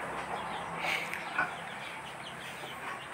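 Three-day-old chicks cheep and peep faintly a few times over a quiet farmyard background, with short chirps clustered near the middle and no speech.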